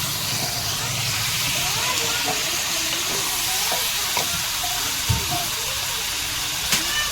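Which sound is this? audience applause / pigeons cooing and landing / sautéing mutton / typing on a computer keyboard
sautéing mutton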